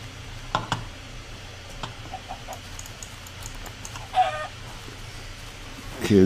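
Chickens cluck in the video game Minecraft, several short scattered clucks and squawks at modest level, with a louder burst near the end.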